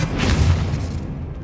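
Expelliarmus spell cast in the Hogwarts Legacy video game, a single deep booming burst that swells loud near the start and then rolls away into a fading rumble, with no voices.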